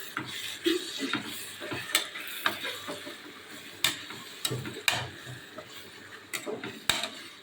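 Ground chili paste being stirred in a cooking pot for beef biryani, with repeated scraping clinks of a metal spoon against the pot at an irregular rhythm, close and moderately loud.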